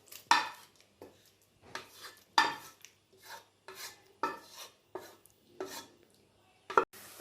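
Squid roast is stirred and sautéed in a pan, giving about a dozen rhythmic scraping strokes of a spoon against the pan, close and distinct with quiet gaps between them and no talking.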